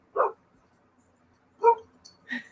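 Two short, distant barks from a puppy outdoors, spaced apart, with a faint yip at the end in an otherwise quiet space.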